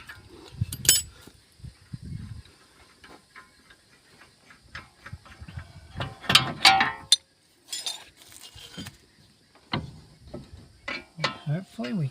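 A ratchet works loose a wheel bearing nut in short, uneven bursts of clicking and metallic clinks, with pauses between.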